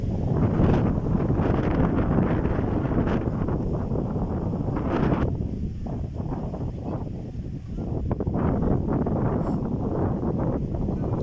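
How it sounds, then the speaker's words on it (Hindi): Strong wind buffets a microphone outdoors at a cricket match in Mansehra, a loud, continuous low roar and rumble that fills the whole clip with no clear voices over it. "हवा बहुत तेज़ चल रही है। हवा का जहाँ पर इशू है इसी आपको आवाज़ भी क्लियर नहीं आ रहा होगा।"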